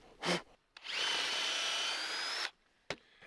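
A cordless drill driver bites into wood in one steady, loud run of about a second and a half, framed by short knocks and scrapes before and after, with no talking.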